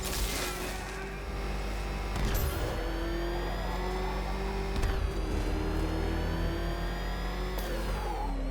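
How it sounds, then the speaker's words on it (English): Batmobile tearing along at speed in Batman: Arkham Knight, a steady loud engine drone with rising revs and a couple of sharp impacts, continuous throughout under a musical game score. "we're tracking the Batmobile. Moving at speed."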